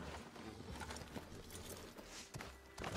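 A horse in Red Dead Redemption 2 moves off over woodland scrub, its hooves striking in quick, uneven clip-clop beats, soft and fairly close, with faint ambient rustle behind.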